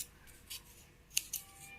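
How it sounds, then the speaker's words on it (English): Scissors snip through banana peels in a quiet room, giving a few sharp, separate cuts with short pauses between them. Nobody speaks. "we'll cut all the banana peels like this size"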